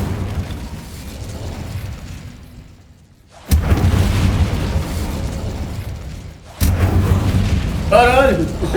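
The Incendio fire spell in Hogwarts Legacy bursts out with two sudden, loud whooshing booms, each flaring then fading into a roaring rumble, with brief quiet before the first and a voice shouting over the later part.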